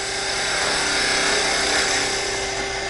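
A deep detail gouge taking fine cuts across the end of a wooden muddler spinning on a lathe, giving a steady, continuous scraping hiss with no voices.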